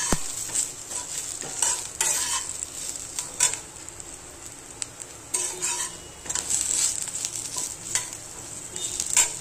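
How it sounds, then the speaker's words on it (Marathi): Onion and grated coconut roast in a pan for misal gravy, a soft sizzle broken by bursts of spatula scraping and stirring that come and go in uneven waves. "हे चांगला कांदा खोबरा भाजून घ्यायचं।"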